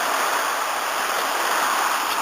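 Gentle surf washing onto Harlech beach on a windless day, a steady broadband hiss of breaking waves, close and continuous with no voices.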